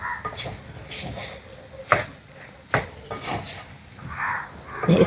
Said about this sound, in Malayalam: എന്നിട്ടിതാ നന്നായിട്ടൊന്ന് ഇളക്കി കൊടുക്കാം